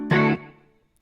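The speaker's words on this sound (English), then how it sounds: "it does go nicely with the flanger. And there's also a little bit of chorus on there and some delay and reverb" A single strummed guitar chord swells through flanger, chorus, delay and reverb effects, holding briefly before decaying into a soft echoing tail.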